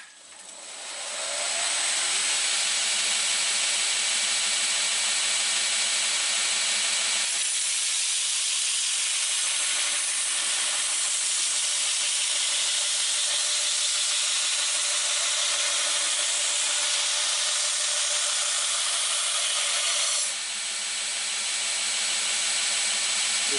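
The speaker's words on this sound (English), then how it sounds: "I'll of course be starting on the coarsest grinding belt I've got to do this rough shaping." Steady loud hiss of a belt grinder on a coarse belt rough-shaping a blade from a salvaged steel fence post, continuous and close with a slight shift in tone partway through, no talking.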